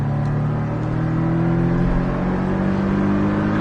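Porsche Cayman accelerating on the Bresse race circuit, a loud, steady in-car engine drone with harmonics climbing as revs build, close and continuous with no voices.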